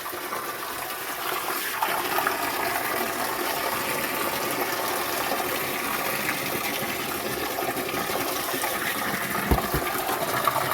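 Water pours continuously into an aquarium fish tank, making a steady, even gushing and splashing rush that holds at the same level for about eleven seconds with no voices.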